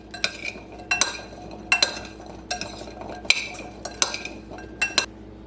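Roasted radishes are tossed with oil in a bowl, giving a string of sharp metallic clinks and scrapes from a utensil against the dish. The bursts come in a loose, repeating rhythm, close and fairly quiet, with no talk.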